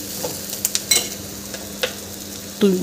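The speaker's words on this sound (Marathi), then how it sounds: "खोबरा किस घालून घ्यायचा आहे आणि कोथिंबीर घालून घ्यायची आहे छान आणि मिक्स करून घ्यायचं आहे।" Ivy gourd stir-fry being mixed with grated coconut and coriander, a low steady sizzle with a few soft scraping stir strokes and a brief clink near the end.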